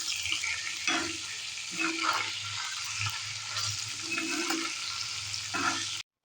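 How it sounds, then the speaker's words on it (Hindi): Fried chicken is stirred with ginger garlic paste in a pan for chicken karahi, with a steady sizzle and repeated scraping strokes of a spoon at close range, no talking. "अब हम इसमें 1 टेबलस्पून अदरक लहसुन का पेस्ट ऐड कर देंगे और इसे अच्छी तरह मिक्स करेंगे।"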